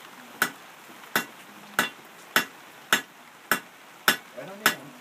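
Blacksmith's hammer strikes steel on an anvil in eight sharp, evenly spaced metallic blows, ringing briefly after each hit, close and fairly loud over faint background noise.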